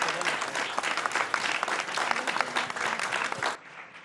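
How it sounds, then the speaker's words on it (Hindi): Studio audience applause welcoming the chief minister of Madhya Pradesh on a news channel stage: loud, dense crowd clapping sustained for several seconds, then cutting off abruptly to a quieter room tone near the end. "जोरदार तालियों के साथ स्वागत।"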